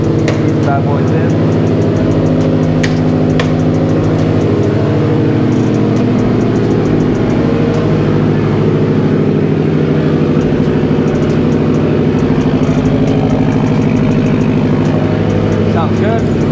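A Subaru STI engine idles steadily while warming up in a garage, a close, constant low rumble that stays level throughout, with a few faint clicks on top.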